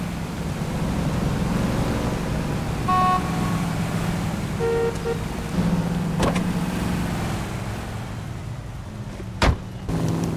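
A car drives steadily with a continuous road and engine rumble during a chase after a cab, with a few brief sharp knocks and clicks over the noise.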